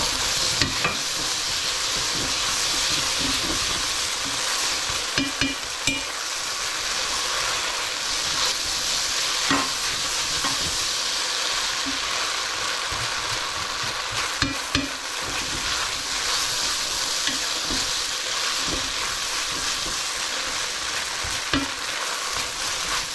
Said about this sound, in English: Okay, so these are frying off now